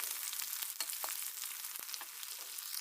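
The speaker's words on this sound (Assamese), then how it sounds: "এনেদৰে দি অলপ দেৰি ভাজি ল'ম" Cumin seeds, onion, ginger and garlic fry in hot oil, giving a steady bright hiss and sizzle with small crackling pops throughout, close and continuous without any voices.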